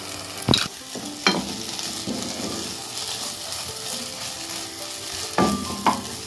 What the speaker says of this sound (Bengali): এরপর আমরা যে পেস্টটি বানিয়েছিলাম সেই পেস্টটি আমরা এর মধ্যে দিব, দিয়ে ভালো করে আমরা এটাকে কষিয়ে রান্না করে নেব।